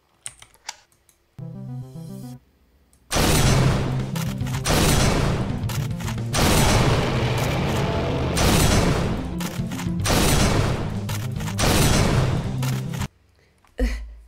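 Loud, dense bursts of gunfire and explosions from The Crawler, a game of midnight shopping in the woods, rolling almost continuously after a few quiet seconds, with brief pauses between heavy volleys and a quiet tail at the end.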